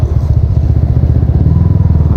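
A motorcycle with an MBR1 aftermarket muffler idles loudly and close by, its exhaust giving a steady, rapid, throbbing pulse with no voices.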